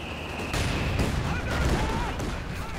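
Mortar pit firing in a Company of Heroes 2 match, a dense run of overlapping booming blasts and crackling gunfire that holds loud and steady across the whole stretch of battle noise.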